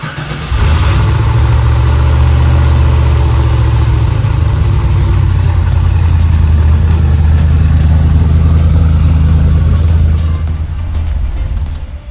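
A lumpy cammed GM engine idles in a Mazda car built for track use, with a loud, steady uneven rumble that runs unbroken for about ten seconds before easing off.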